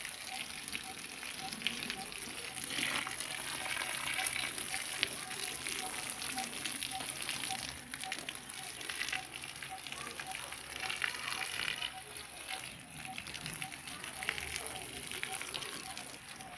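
Water from a hose pipe gushes steadily onto garden plants, radish among them, a continuous close hiss and splatter that runs throughout, with faint voices now and then.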